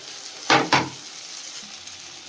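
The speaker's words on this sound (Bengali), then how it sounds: "সাবুদানাটা ভাজা হয়ে গেছে, এখন আলুগুলো দিয়ে দেব।" Sabudana is fried in a pan, a faint sizzle broken by two quick, sharp scraping stirs close together and a third short one at the end. No voices are heard.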